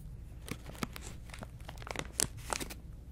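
Crinkly plastic snack packaging of cheese balls rips and crackles in short, irregular bursts as it's torn open by hand, close up and fairly quiet.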